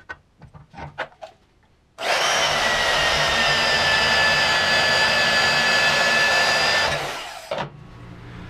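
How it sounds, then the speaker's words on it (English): A portable band saw grinds steadily through metal for about five seconds, loud and close, preceded by a few sharp clanks and ending abruptly. "we'll just cut this off with a porta band"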